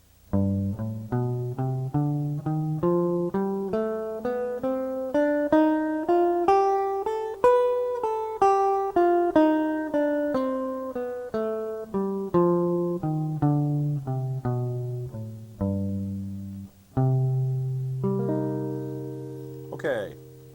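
Jazz guitar plays single notes with a swung jazz feel, climbing then descending a scale at a brisk, even pace, each picked note ringing clearly, followed by a few slower sustained notes near the end.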